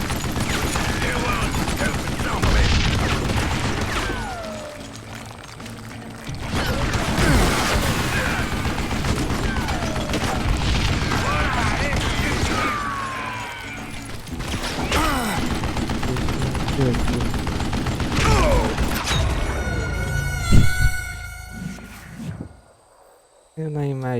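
Bursts of gunfire in the Call of Juarez Gunslinger video game crackle in repeated volleys over a busy game soundscape, with a short musical passage near the end.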